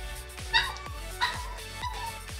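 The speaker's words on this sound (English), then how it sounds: "forgive the crying dog in the background" A dog whimpers and yips in the background, a few high, thin cries at regular intervals, faint beneath the steady music and effects of a Diablo II Resurrected game session.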